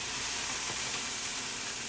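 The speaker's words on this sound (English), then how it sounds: "Ready for sizzle." Pork medallions frying in a very hot skillet, a steady broadband sizzle and hiss that holds evenly throughout, close and fairly loud with no talking.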